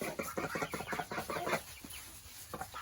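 A backyard flock of chickens, including Barred Rocks, clucks in a rapid, busy burst during morning chores, then settles into scattered softer clucks nearby.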